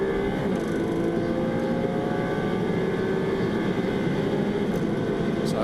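A Ferrari Challenge race car at Balaton, driven by the Emil Frey Racing race leader, accelerates in an onboard view, its engine a constant loud, dense drone with whining harmonics that climb steadily throughout.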